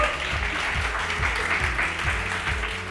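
Studio audience applause on a TV talk show, a dense, steady wash of clapping with rhythmic thumps underneath, continuous throughout.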